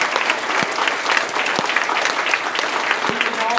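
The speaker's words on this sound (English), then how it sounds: "Give yourselves a big round of applause." A crowd of elementary school students claps enthusiastically in an assembly setting, producing a dense, continuous wash of applause with a few sharper individual claps standing out.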